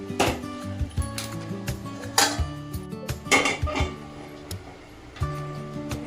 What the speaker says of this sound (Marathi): याच्यावरती चपात्यासाठी तवा ठेवून घेऊया